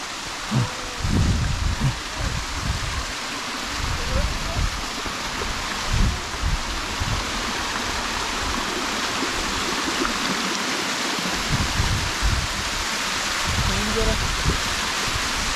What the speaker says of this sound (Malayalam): നോക്കിയേ വെള്ളച്ചാട്ടം, നോക്കിയേ.